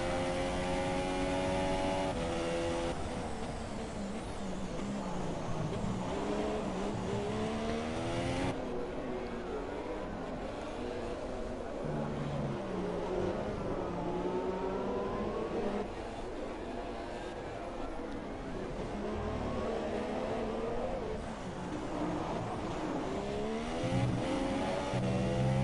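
Formula 1 cars in a racing video game at the Barcelona circuit, a continuous high-pitched engine whine rising and falling through gear changes, with a commentator talking over it.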